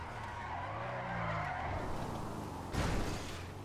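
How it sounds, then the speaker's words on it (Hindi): A car drifting in GTA 5 gives a steady engine roar and a long, loud tire skid, with a brief whooshing swell near the end. "क्या ड्रिफ्ट थी लेकिन कंट्रोल नहीं हो पाई"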